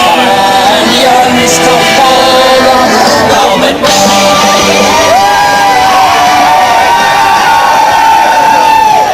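Loud crowd cheering at an outdoor winter carnival, with children shouting and whooping in a dense, close, continuous roar.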